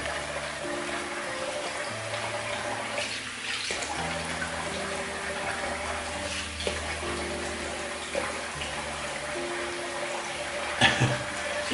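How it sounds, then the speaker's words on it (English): Water running from a tap into a sink while a man rinses shaving residue off his face, steady splashing and trickling with occasional cupped-hand splashes, close and moderate, without talk. "Alright, I'll rinse off, put the alum over it and see how it went."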